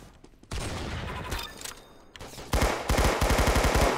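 Bursts of automatic gunfire in the Roblox shooter Arsenal: a clipped shot or two, then a steady loud rattle of rapid rounds building toward the end, with no talk.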